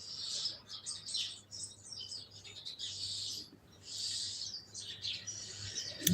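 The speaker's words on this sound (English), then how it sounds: "I hear them birds. They sound amazing." Outdoor birds chirping in repeated high, bright phrases with short gaps between them, moderately faint over a low steady hum.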